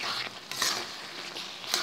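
Vegetables and lote fish with lemon leaves simmer in a pan as the water cooks down, a steady soft sizzle and bubbling with occasional stirring scrapes, close and moderate in level.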